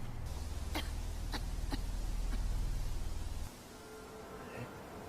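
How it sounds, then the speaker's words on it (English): A few sharp coughs ring out over a steady low rumble, somewhat distant, before the background drops quieter. "That wasn't his friend coughing."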